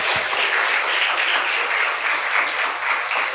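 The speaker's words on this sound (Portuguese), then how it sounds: "aplauda bem forte o nome de Jesus" Church congregation applauds loudly during a worship service, a dense continuous wash of clapping with a few distinct claps standing out near the start.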